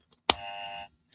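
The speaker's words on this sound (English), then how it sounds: "the buzzer needs its batteries replaced." A battery-powered buzzer that needs new batteries gives one short electronic buzz of about half a second, sharp at the start and then steady, in a quiet room with faint noises around it.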